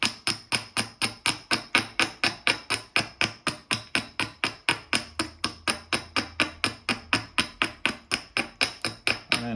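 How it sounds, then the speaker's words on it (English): Stone struck repeatedly while knapping and grinding a flint edge, a steady run of sharp, evenly spaced clicks and taps, loud and close, around forty blows with no talk. "So I'm going to grind off this corner, make it nice and strong."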